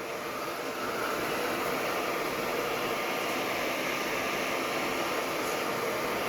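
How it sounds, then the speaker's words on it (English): A kettle boils on a 600-watt portable power station, giving a steady loud hiss of steam that builds after the first second and holds without a break, with no talk over it. "More steam coming out now. It's trying to whistle."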